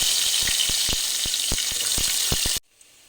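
Onion and curry leaves fry in hot oil, a loud close hiss with rhythmic crackling pops, cutting off abruptly near the end into near silence.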